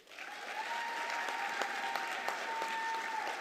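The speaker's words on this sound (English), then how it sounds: "Let us give all of our graduates a round of applause." An audience at a winter graduation commencement applauds the graduates in a large hall, the clapping swelling quickly and holding steady and moderately distant, with a faint sustained tone behind it.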